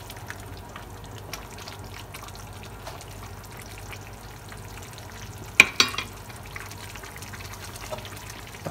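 Sotanghon noodle soup ingredients are stirred in a pot over a steady low simmer and sizzle, with a couple of sharp utensil clinks against the pot partway through.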